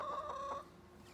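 A rooster named Colonel Jr. gives a short run of clucks, close and fairly quiet, fading out after about half a second.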